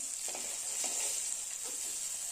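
Rohu fish frying in hot oil, a constant hissing sizzle close by with a few faint stirring scrapes underneath.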